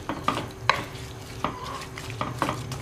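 Fresh vegetables are stir-fried in a pan, with a spatula knocking and scraping in several sharp strokes over a steady, close sizzle.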